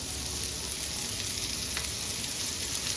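Small onions sauté in a pan until golden, giving a continuous even sizzle with a faint scrape of stirring partway through.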